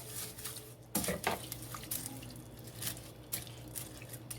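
Fideo noodles get stirred in a pan, with faint scraping and light clinks from a utensil against the metal, scattered and irregular over a low background hum.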